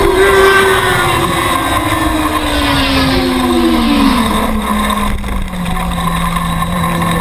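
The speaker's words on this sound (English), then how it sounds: "probably the loudest bike known to man" A very loud racing motorcycle at a WSMC novice open modified production road race, its high engine whine sliding steadily downward in pitch as it passes close by, continuous for several seconds.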